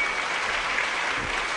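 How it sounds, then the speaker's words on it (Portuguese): A crowd applauds steadily, a dense, even wash of clapping throughout with no pauses. "Aplausos."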